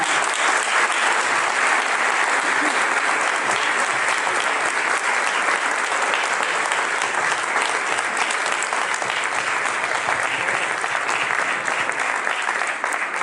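Sustained applause from a large audience at a public heritage presentation in Medellín, dense continuous clapping that holds loud and steady throughout without a break.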